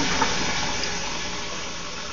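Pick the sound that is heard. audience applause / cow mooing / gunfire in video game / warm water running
warm water running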